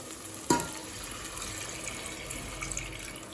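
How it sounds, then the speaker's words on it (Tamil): Three cups of water are poured into a pot of sautéed plain biryani masala, opening with a sharp splash and hiss, then a steady sizzling wash that settles into a continuous gentle simmer. "அடுத்தது 3 கப் தண்ணி சேர்த்துக்கலாங்க."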